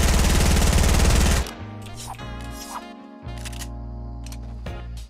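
A P90 SMG fires in Fortnite Battle Royale: a rapid, loud burst of about a second and a half, followed by quieter in-game clicks and tonal effects.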